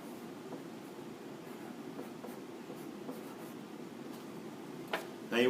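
Pen or marker writing on paper in a classroom, a soft continuous scratching texture that runs steadily through the stretch at close range, with a sharper bump near the end.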